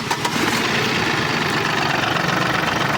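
A 2016 Tata Tiago XZ car engine idles steadily and loudly close by, with an even low rumble and a slight rhythmic vibration through the whole stretch.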